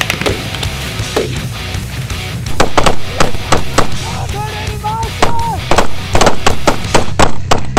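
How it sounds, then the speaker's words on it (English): Gunfire at an ISAF patrol base, sharp loud broadband cracks repeating irregularly across the span with some distant thuds, under shouted voices and a brief whistling tone midway. "vi bliver beskudt fra Compound T nu"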